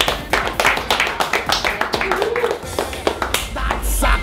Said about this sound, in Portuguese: Uma salva de palmas aí, mano.